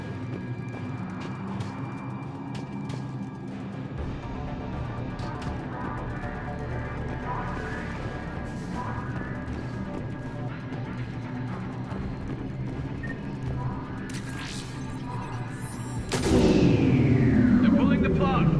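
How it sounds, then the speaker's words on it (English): A heavy cannon blast in the video game Mass Effect 3, a sudden loud boom late in the clip with a ringing, sweeping tail, following a stretch of steady rumbling game ambience and voices. "Then I think it's time to test this cannon."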